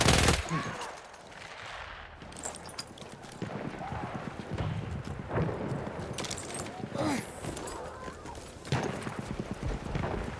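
Rapid gunfire rattles through a Battlefield 1 battle in fog, mixed with clattering hoof-like thuds, a whinny and voices, steady and fairly loud for ten seconds.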